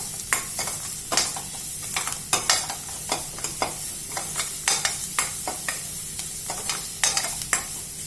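Ginger garlic paste frying in a pan for a vegetable sandwich filling, a continuous soft sizzle broken by sharp, close scraping and tapping of a spoon stirring at irregular intervals, with no voices.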